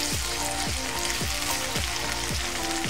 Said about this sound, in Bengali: প্রথমে আমি আদা রসুন পেস্ট দিচ্ছি